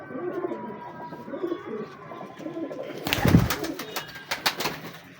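A pair of Ferozpuri pigeons coos in soft, repeated low phrases throughout, with a louder burst of wing flaps or movement near the middle and a few sharp knocks toward the end.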